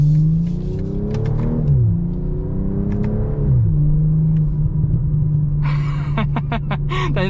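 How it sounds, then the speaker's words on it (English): A 2025 BMW M440i's inline-six exhaust drones loudly from inside the cabin, its revs climbing and then dropping sharply in stepped blips as the car downshifts, followed by a few sharp crackles. "that exhaust, you can actually feel it underneath your seat as you downshift"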